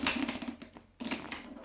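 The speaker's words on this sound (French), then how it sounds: "Nous avons un jeu de cartes, voilà, avec des cartes en somme toutes différentes, et nous allons le mélanger" A deck of playing cards shuffled by hand for a magic trick, rapid papery riffling clicks in two short bursts separated by a brief pause, close and fairly quiet.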